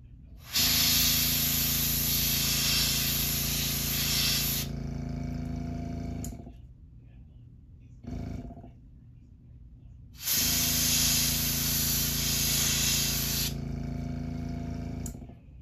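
An airbrush sprays paint onto a lava-colored crawfish fishing lure: two long, loud hissing bursts separated by a short puff, each cutting off sharply into quiet.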